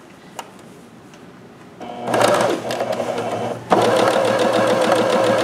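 Janome sewing machine stitching a multi-zigzag over the fabric edge, starting after a quiet moment with a loud rapid mechanical chatter that pauses briefly and then resumes, close up and without talking.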